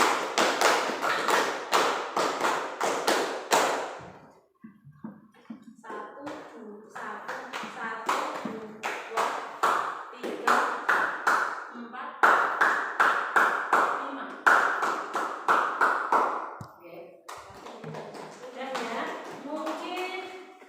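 A class performs a rhythmic clapping routine of single and double claps, sharp sets of claps in repeating patterns with short pauses between, while a teacher speaks and counts along.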